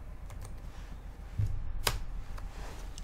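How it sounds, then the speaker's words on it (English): Keystrokes on a computer keyboard while a search is typed into Windows 10, picked up by a Blue Yeti microphone: a handful of soft, irregular clicks close to the mic with one sharper tap, over a low steady background hum. "we're going to type in control panel"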